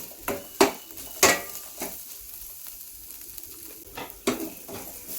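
Ginger and dried chilli fry softly in a pan under a faint sizzle, broken by several sharp scraping and clinking stirs of a utensil against the pan at uneven intervals.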